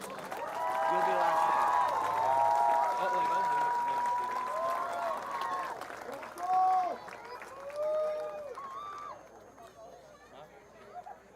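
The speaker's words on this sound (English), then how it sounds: "let's give these players a big round of applause" A crowd at a varsity high school football event applauds the players with steady clapping, while cheering and raised voices rise above it and then thin out.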